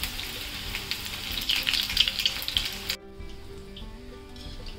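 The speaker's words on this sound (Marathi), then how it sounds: "तुम्ही नेहमी मीडियम गॅसवरच तळा" Chicken lollipops frying in hot oil, a loud, busy crackling sizzle that cuts off abruptly about three seconds in, leaving a low residual bubbling.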